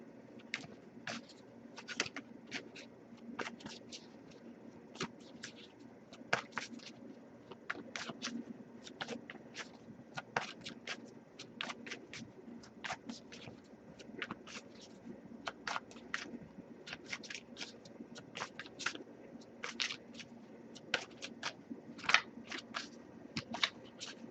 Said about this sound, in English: I'll give it a few more shuffles before we move on